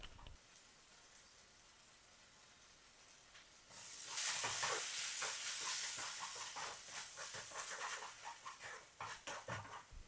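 Paneer masala being stirred in a pan, with sugar just added, starts faint and then bursts into a loud steady sizzle and hiss, with repeated scraping strokes from the stirring.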